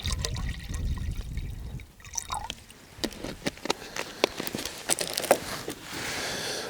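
Water pours into a Fire-Maple X2 Pro camping pot, filling it with about 500 ml; a steady close pour with splashy, trickling texture throughout, shifting as the pot fills.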